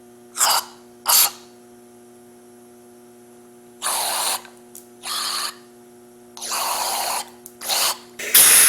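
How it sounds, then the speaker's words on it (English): Compressed air blasts through a cleaned carburetor from a Mercury/Mariner outboard, clearing leftover gunk and debris: about six short, loud hissing bursts of varying length, separated by gaps over a steady low mains hum. "Use compressed air to blow out any gunk or debris that may still be left in the carburetor after cleaning."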